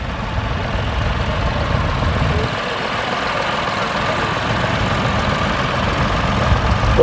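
Vintage tractor engines idle at a yesteryear farm rally, making a steady, loud low-pitched chug that runs unbroken for about seven seconds, with no voices heard.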